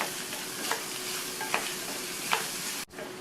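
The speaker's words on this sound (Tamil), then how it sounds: "நிதானமான தீயில வச்சு வதக்கிக்கணும்" Radish sautéing in oil over a low flame gives a soft, even sizzle, with three light scrapes of a spatula stirring the pan and a sharp knock near the end.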